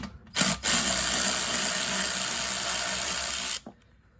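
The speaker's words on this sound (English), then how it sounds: "power tool." A power tool with a 10 mm socket whirs steadily at close range for about three seconds on a Toro GTS push mower, with a brief burst before it, then stops.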